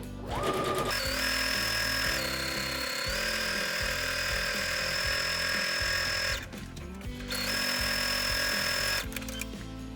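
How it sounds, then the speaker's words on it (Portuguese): A sewing machine runs close and loud, stitching around a small fabric phone bag in two long continuous runs separated by a brief pause, with a steady whirring motor tone throughout. "é só uma costurinha toda a volta pra gente prender"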